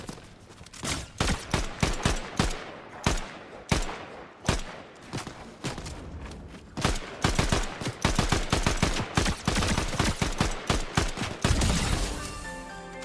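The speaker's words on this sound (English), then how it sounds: "stop shooting me!" Video game gunfire comes in rapid, loud volleys of close shots, with bursts of automatic fire and scattered single cracks running steadily for several seconds.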